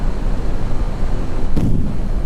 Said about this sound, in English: Wow, look at that landing burn there.